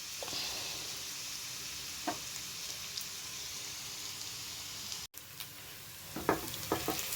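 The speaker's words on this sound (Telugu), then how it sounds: "ఆనియన్స్, పచ్చిమిర్చి ఇవన్నీ దూరగా వేగిన తర్వాత బీరకాయ వేసుకోవాలి" Onions and green chillies frying in a pan before ridge gourd is added, a steady hiss of sizzling with occasional stirring clinks, a brief dropout and a cluster of sharper taps near the end.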